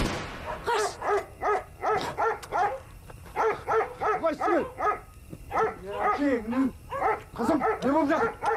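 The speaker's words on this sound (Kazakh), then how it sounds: "жаңағы иттердің ұрысы жаман еді" Dogs fighting and barking: close, rapid bursts of barks and yelps come in quick uneven clusters, with brief pauses between flurries.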